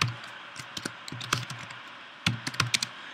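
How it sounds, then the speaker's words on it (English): Fingers type on a computer keyboard in quick irregular bursts of close clicking keystrokes, with a short pause before a final flurry, no voices present. "I'm just going to type in"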